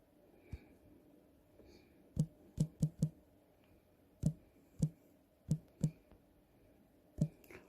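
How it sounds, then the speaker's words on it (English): Computer keyboard typing comes as sparse, separate key taps, some in quick pairs or triplets, set apart by pauses in a quiet room. "I'm typing the words."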